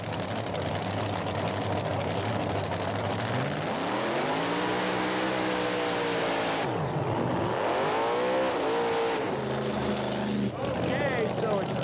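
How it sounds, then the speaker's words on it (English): A supercharged Chrysler Hemi-powered 1940 Willys and a 1923 T-Bucket race at a 1987 drag strip, engines roaring loud and continuous, pitch sweeping up through gear changes while a commentator talks over it. "1940 Willys with a big Chrysler Hemi supercharged engine for the power."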